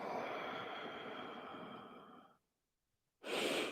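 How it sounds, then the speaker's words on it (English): A long, soft exhale while releasing from the bow pose in a hatha yoga session, a steady breath fading out, then a short pause before another breath begins. "And then exhale and release."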